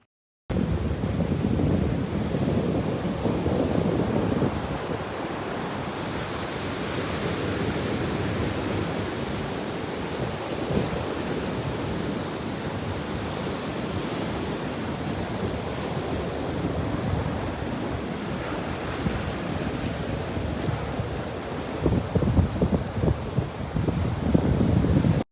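Waves roll onto the beach at Stone Bay in Broadstairs, a steady loud wash of surf blended with strong wind buffeting the microphone, continuous for the whole stretch with no voices.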